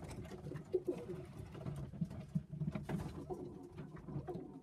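Pigeons coo in low, repeated murmurs close by, with a soft background hum and no talking.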